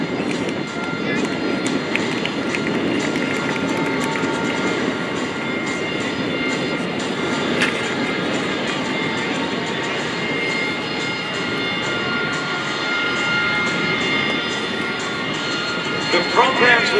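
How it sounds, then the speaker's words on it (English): A MiG-17 jet fighter roars through an air show pass, a loud steady broadband rumble that holds for the whole stretch. Crowd murmur and announcer-style talk sit underneath it. "Ladies and gentlemen, the MiG-17 in the air."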